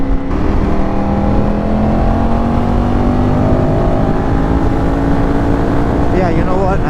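A Ducati V4S motorcycle fitted with exhaust inserts idles and rumbles steadily up close, with a rising engine tone toward the end and people talking over it.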